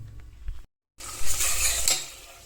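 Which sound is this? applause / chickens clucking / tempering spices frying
tempering spices frying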